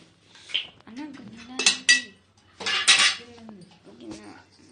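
A bowl clinks and rattles in a few short metallic bursts as tamarind is put into it, set among soft kitchen handling sounds, with a person talking quietly at times.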